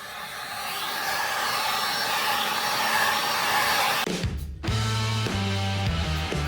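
A heat gun blows a steady, loud hot-air roar while warming vinyl wrap on a Jaguar XFR, then cuts off abruptly and is followed by a music-like tonal passage.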